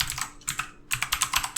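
Close, crisp keystrokes on a computer keyboard as code is written, coming in quick uneven bursts with a short pause between runs of clicks.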